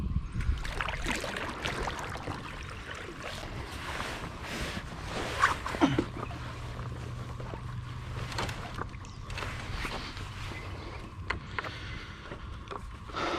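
A Kuda 126 kayak with a skeg is paddled across open water, with soft splashes and gentle hull swishes under a steady breezy outdoor hiss.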